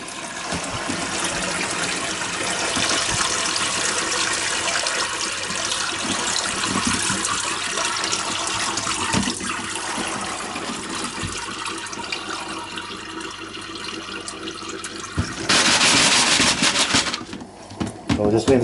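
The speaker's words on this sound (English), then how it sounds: "So we just have the liquid drain." Liquid drains out of a container into a bucket while gold is recovered from RAM sticks, a steady watery gush and trickle running throughout, with a louder splashing burst near the end.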